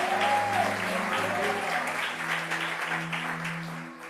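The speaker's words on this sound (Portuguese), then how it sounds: "Vamos aplaudir a Jesus por isso." A church congregation applauds during a Portuguese-language service, a dense wash of clapping with sustained organ or keyboard chords underneath and some voices mixed in.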